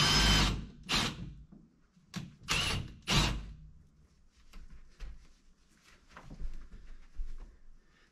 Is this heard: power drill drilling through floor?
yes